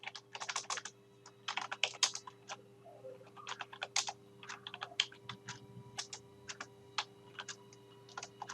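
Quick bursts of computer keyboard typing, with numbers keyed into an Excel spreadsheet; irregular clusters of close, crisp key clicks and presses, fairly quiet, with no voices.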